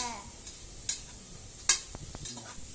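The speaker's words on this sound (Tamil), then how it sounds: "நாலு பச்சை மிளகாய் போட்டுக்கோங்க. அதையும் நல்லா வதக்கிக்கோங்க." Green chillies are sautéed with onions in a pan for country chicken biryani: a soft, steady sizzle broken by occasional sharp scrapes and clinks of stirring.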